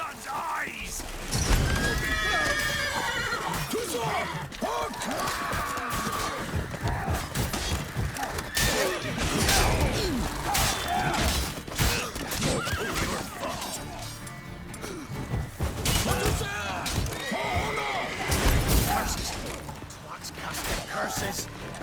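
Loud horses neighing and whinnying amid clashing, smashing combat noises and shouting voices, a chaotic battle soundscape in the video game The Witcher 3: Wild Hunt.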